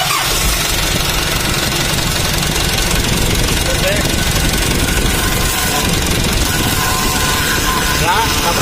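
A car engine after overheating repair and oil refill fires up and keeps running, a loud steady mechanical drone with rough knocking vibration filling the whole clip.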